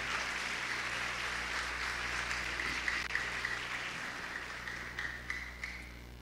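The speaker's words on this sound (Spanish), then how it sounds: "Denle un fuerte aplauso al Señor en esta mañana" Congregation applause during a Spanish-language church service, a faint, distant, steady wash of clapping over a low hum with no clear talk.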